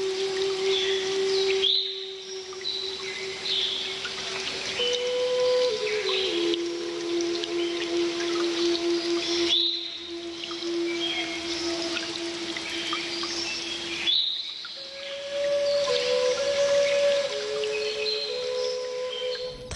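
Water pours steadily over the Tifrit waterfalls, a continuous rushing hiss with scattered bird calls above it and a sustained musical tone running underneath.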